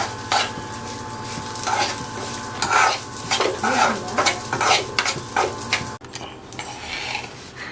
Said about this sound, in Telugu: సో నెయ్యి వేసిన తర్వాత గసాలు వేస్తాము. అది హీట్ అయిన తర్వాత డీప్ ఫ్రై అనేది చేసుకోవాలి.